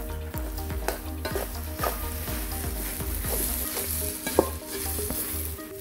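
Samosa masala filling sizzles and fries in a pan while a spoon stirs it in a steady rhythm of regular scraping strokes, with one sharper clink near the end and no talking.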